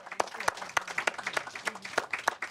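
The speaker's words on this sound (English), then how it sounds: "Give her a round of applause." Scattered clapping from a modest audience at an Eid-ul-Fitr celebration in Princes Town, uneven and fairly quiet, with individual hand claps standing out in a loose rhythm and a voice faintly underneath.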